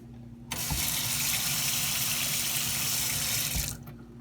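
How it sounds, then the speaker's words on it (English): A single-handle kitchen faucet, just repaired, runs steadily for about three seconds after being turned back on, a continuous close hiss of flowing water that starts and stops abruptly. "Turn your hot and cold water back on."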